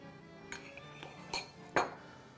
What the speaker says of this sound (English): Okay, now let's do the tuna. A couple of good scoops.